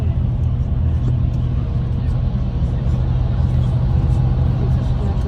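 A car rolls along the road with a steady, loud low rumble of engine and tyre noise from inside the cabin, unchanging throughout.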